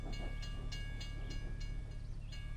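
A train rolls past a crossing in a driving video game, a steady low rumble with rhythmic clacks of wheels on rail joints repeating every third of a second, moderately close and alone.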